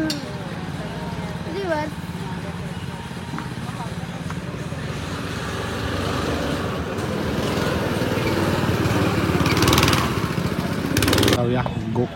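Small go-kart engines buzz and whine at a go-kart track, a droning motor sound that swells louder toward the end as people talk over it.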